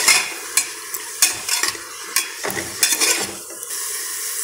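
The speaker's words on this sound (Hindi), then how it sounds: "अब डालेंगे आधा चम्मच हल्दी का पाउडर और इसको मिक्स कर लेंगे।" A spoon stirs pumpkin with turmeric, half a tomato and crushed ginger in a pan, giving repeated close scraping strokes and clinks over a continuous frying sizzle, with no voices.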